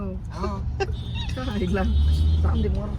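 Weekend traffic jam on a road, with a low steady engine rumble and passing vehicles heard under people talking and chattering nearby.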